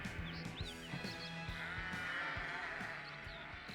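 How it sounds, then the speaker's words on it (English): Sheep bleat repeatedly from a track on an album, several wavering cries rising and falling over a steady bed of music. "And some sheep."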